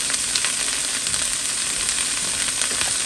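Salmon and zucchini fry in a pan on high heat, giving a loud, continuous close-up sizzle with faint crackles throughout and no voices.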